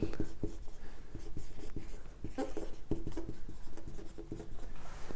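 Pen writing on paper while working an accounting cash flow problem, close scratchy strokes in quick irregular bursts with short pauses between words, no talking.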